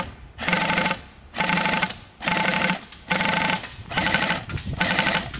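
An airsoft flak gun fires both guns together at a barrel in bursts of rapid mechanical rattling, five or six close, loud strings of shots separated by short pauses, with no talk.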